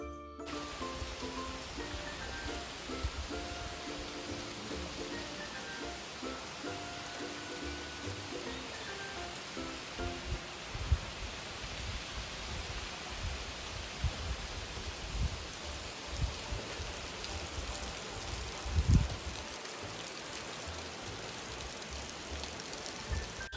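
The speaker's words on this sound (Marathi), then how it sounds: "खूप पाऊस आहे सोनू" Steady heavy rain pours down continuously, a dense hiss that never lets up, with occasional soft thumps and knocks underneath.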